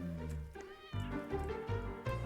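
A grey cat in a Roblox game meows repeatedly in quick succession, close and fairly loud, with no talk over it.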